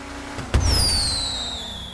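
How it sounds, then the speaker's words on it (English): Fireworks launching at a race finish in a racing video game: a sharp bang followed by a long descending whistle as the rocket climbs, then another pop at the end. "There goes fireworks number one."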